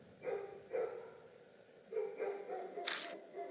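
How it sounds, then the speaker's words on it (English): Dogs barking at night, several nearby barks in two short bursts, the second followed by a sharp click, with quiet gaps between them. "The neighbor's dogs are barking."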